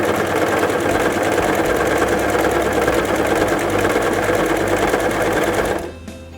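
A Brother CV3550 coverstitch machine runs steadily as it sews a chain stitch with the centre needle and looper thread, a loud continuous mechanical whir and rapid needle chatter that drops away at the end.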